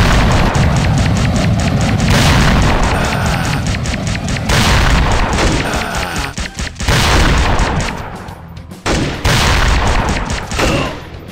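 Gunfire and explosions from the video game Metal Commando, loud and almost continuous, with rapid shots and heavy booming blasts that break off in short gaps near the end.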